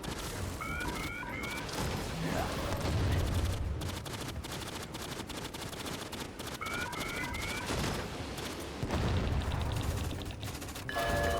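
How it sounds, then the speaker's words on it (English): An automated sentry gun fires in rapid bursts in the Aliens: Fireteam Elite game, with dense overlapping gunfire, booms and electronic beeps throughout. "I got an automated sentry gun."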